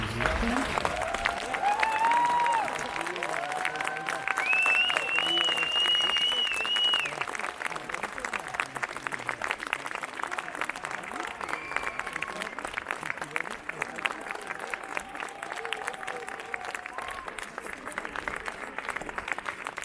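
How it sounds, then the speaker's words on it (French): An audience applauds continuously at a live demonstration, a dense crackle of clapping that holds for the whole stretch before tapering slightly, with a few voices calling out over it. "merci beaucoup pour vos applaudissements"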